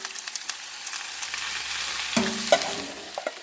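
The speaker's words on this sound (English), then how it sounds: "So toss the rice. I think I'll cook all of the rice, because I'm going to make a big batch of fried rice." Leftover rice being tossed and fried in a pan for Thai chicken fried rice, a continuous crackling sizzle with scattered clicks and a couple of spatula scrapes, close up and without speech.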